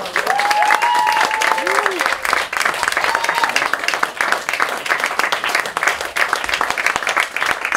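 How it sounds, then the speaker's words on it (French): A crowd applauds steadily throughout as a performer is welcomed onto a stage at a humorous live presentation, with dense sustained clapping and a few faint voices and whistle-like tones mixed in. "Sous les applaudissements de la foule."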